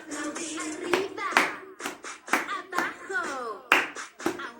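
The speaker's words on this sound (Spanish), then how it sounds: "vamos todos a aplaudir" Hands clap in rhythm along with a children's action song, sharp separate claps spaced through the passage, with voices singing and talking between them.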